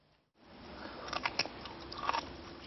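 Fresh ginseng root bitten and chewed close to the microphone, a few crisp crunches followed by softer moist chewing, quiet and alone after a brief silence.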